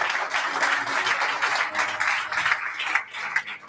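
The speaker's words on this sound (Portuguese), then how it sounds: "Dê um aplauso ao Senhor Jesus." Church congregation applauding during a Pentecostal worship service, a dense steady wash of many hands clapping throughout, fairly loud and close, with faint voices mixed underneath.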